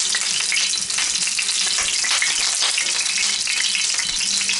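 Halved Brussels sprouts, placed face down in a pan over high heat, sizzle loudly and continuously with a dense crackling spatter that stays even throughout, with no talking.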